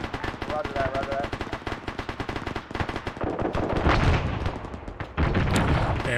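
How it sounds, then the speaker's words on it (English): Rapid bursts of Mark 19 grenade launcher fire in a military video game, dense repeated thumping reports with booming impacts, loud and close, with voices talking over the shooting. "Hey, watch that Mark 19 fire."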